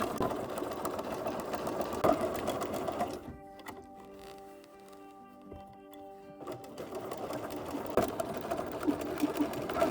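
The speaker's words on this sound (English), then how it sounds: "use a zigzag stitch and zigzag all the way around" A sewing machine zigzag stitching around a gothic ballgown, running in fast, loud, steady bursts at the start and the end, with a quieter pause in the middle.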